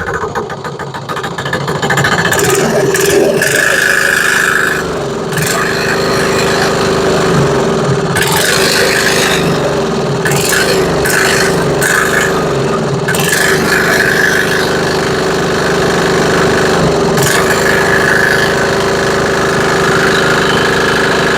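A loud single-cylinder Chinese 168F diesel engine chugs close by, its throttle opened in several surges that swell and fall back over a steady knocking idle.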